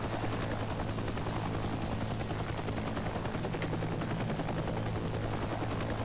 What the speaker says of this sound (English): that CH-53 is going to land first and spaff all of his troops out